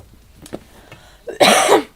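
A single harsh cough, loud and close, preceded by a couple of faint throat sounds and breaths.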